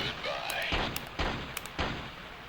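Gunfire in the 2004 video game Tom Clancy's Ghost Recon: Jungle Storm, fired from a prone position: three or four sharp, booming rifle shots spaced about half a second apart over a steady background hiss.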